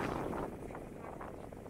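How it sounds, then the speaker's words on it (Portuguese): Steady low buffeting rumble of wind hitting the microphone at Lençóis Maranhenses, Brazil, continuous and fairly loud throughout with no clear talk. "Tá ventando bastante, vamos ver como é que vai ficar aí o som dessa filmagem"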